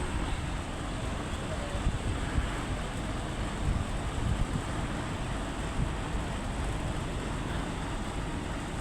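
Strong wind roars steadily across an open stadium, a constant low rumbling buffet on the microphone with no voices over it.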